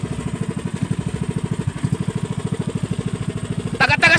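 A fishing boat's engine chugs at sea, a loud, rhythmic low thumping with regular pulses that runs steadily before a burst of brighter noise near the end as it winds down.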